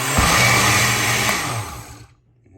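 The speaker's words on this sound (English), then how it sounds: "So you gotta blend this up right now." A kitchen blender purees coquito ingredients, a loud whirring motor running steadily close by, then winding down and cutting out near the end.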